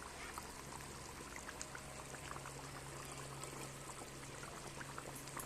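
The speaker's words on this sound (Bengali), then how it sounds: "এবার দিয়ে দিচ্ছি একটু কাঁচা তেল।" Raw oil poured into a pot of cooking duck meat, a soft steady sizzling and bubbling hiss that runs evenly throughout at low volume, with no talking.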